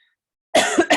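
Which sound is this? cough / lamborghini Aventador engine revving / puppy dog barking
cough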